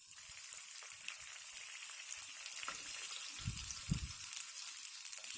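Dart, a tahini-style sauce, bubbles in a pot on the stove. A steady hiss and sizzle is broken by soft low pops and a couple of thicker burbles near the end, with faint stirring scrapes and no talk.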